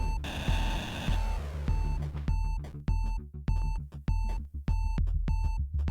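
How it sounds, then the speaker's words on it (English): Repeated electronic low-health warning beeps pulse steadily in a regular rhythm over thumping music in the video game Axiom Verge. "the low health beeping is..."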